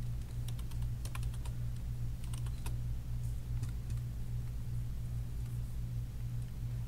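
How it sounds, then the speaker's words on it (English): Text being typed on a computer keyboard, quick bursts of light key clicks with short pauses over a low steady hum, close and quiet. "I will type out my word or words using my text tool."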